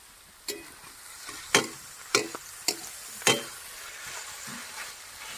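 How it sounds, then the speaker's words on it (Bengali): Onions and capsicum fry in a pan for a village-style veg chowmein. A soft sizzle sits under several sharp, scraping stirs of the spatula spaced a second or so apart. "পিঁয়াজ হালকা হালকা ভাজা হয়ে গেছে এবার দিচ্ছি ক্যাপসিকাম"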